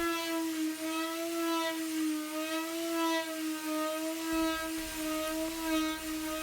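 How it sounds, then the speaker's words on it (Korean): A power sander works a painted scrap wood panel, giving a steady high motor whine with layered harmonics that stays close and even throughout, with no talking. "샌딩 작업을 시작합니다."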